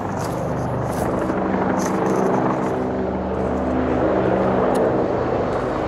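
Helicopter flying overhead during a walk outdoors in Bahrain, a loud, steady rotor-and-engine drone that holds unbroken throughout with no talk.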